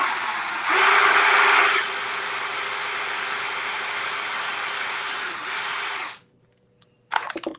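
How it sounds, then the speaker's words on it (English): A power drill whirs close and loud in a steady high whine for about six seconds during a home décor craft project. The whine briefly surges early on, then cuts off into near silence before a few clicks. "forgive me for a minute here while I get this drilled"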